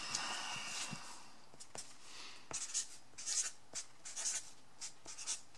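A pen scratches a number onto paper by hand, with soft, quiet strokes and taps in short bursts and no voices.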